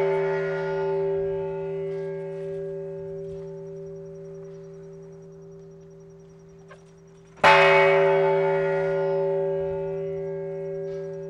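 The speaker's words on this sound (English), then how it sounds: "United Nations Secretary General Ban Ki-moon rings the peace bell" The United Nations peace bell, rung on the International Day of Peace, hums with a long, sustained, slowly fading tone, then is struck again sharply and rings out loud with a rich, lingering resonance.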